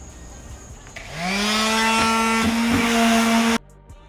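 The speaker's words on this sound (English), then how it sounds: "I'm about to sand it back down. This is like 60 grit." Power sander with 60 grit sandpaper sanding paint, a loud, steady motor whine that spins up, holds for a couple of seconds and then cuts off abruptly.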